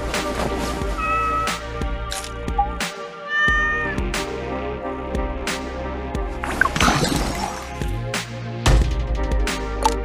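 Cat meowing in the Days of Planet Earth mobile game, with repeated loud meows and cries over constant, busy game music and effects.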